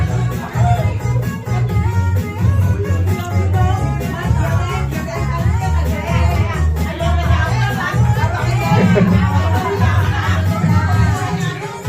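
A large group of supporters at a sales award ceremony chatters and calls out loudly and continuously, with voices and shouts overlapping throughout and a speaking voice mixed in.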